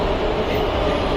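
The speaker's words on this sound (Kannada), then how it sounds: "ಬಂತು ಮೆಟ್ರೋ ಬಂತು." A metro train arriving at a station in Bengaluru, a loud, steady rumble of wheels and motors filling the moment with no pauses.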